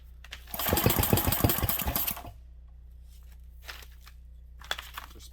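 Repeated pull-start cranking of a 1967 Briggs and Stratton small engine: a loud burst of rapid rasping strokes lasting about two seconds, followed by near silence with a few faint clicks and rustles.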